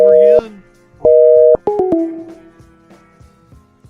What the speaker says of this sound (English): Is it not entertaining watching me dial a number over and over again?